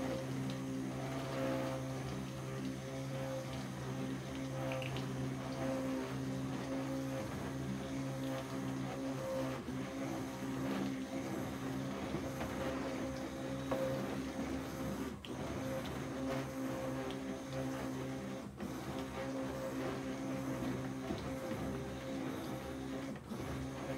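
A stick blender whirring through cold process soap batter made with activated charcoal and essential oils, a steady droning motor hum held for a long stretch with small shifts in pitch.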